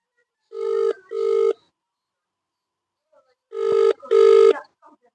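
A telephone, a mobile phone, rings in two double-burst cycles, loud and close, with a short pause between them and silence around.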